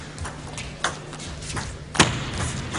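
Table tennis ball knocked back and forth in a women's final between Pavlovich and Li Jiao, a few sharp hits in an indoor arena, the last one louder, under faint crowd murmur.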